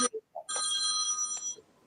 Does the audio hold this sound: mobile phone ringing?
yes